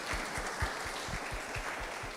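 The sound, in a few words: audience applause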